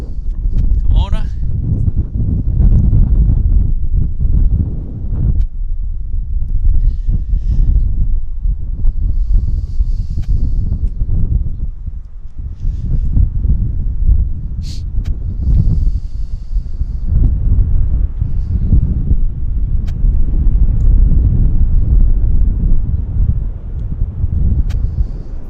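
Strong gusty wind buffets the microphone at Vancouver Airport in a continuous low roar that rises and falls in waves, with someone talking over it now and then.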